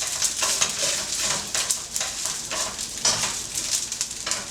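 Fried rice hisses and sizzles steadily in a deep pan after being flipped to crisp the other side, a continuous close frying hiss with occasional scraping stirs and no talking.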